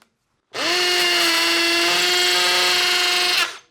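A hammer drill driving a Tapcon screw into concrete, one continuous loud whine that starts abruptly, holds a steady pitch for about three seconds, then stops, heard alone without talk.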